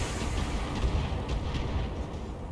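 Missile volleys from a mech in the BattleTech video game, a dense, continuous rumble of launches and blasts filling the whole stretch at steady loudness with no gaps.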